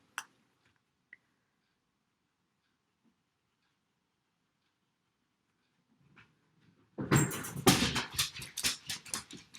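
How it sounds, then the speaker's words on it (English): A dog barks at something by the window, a burst of loud, repeated barks after several seconds of near silence broken only by a few faint ticks. "Oh, there goes the dog."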